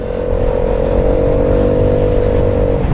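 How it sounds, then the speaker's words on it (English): A Lexmoto Aura twist-and-go scooter engine hums steadily while riding, a constant buzzing drone with no speech. "It's got a typical scooter sound to the engine,"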